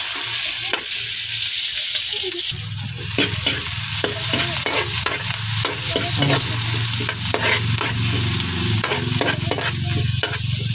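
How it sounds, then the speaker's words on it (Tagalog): Garlic and onions sautéing in a pan for an octopus dish give a loud, continuous sizzle close up, with frequent scraping stirs throughout and a low hum entering partway. "Ginisa ko yung ahos, sibuyas"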